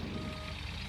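Truck reversing beeps in the video game Gold Rush, a steady repeating tone over a constant engine rumble, moderately loud throughout a short stretch with no talking.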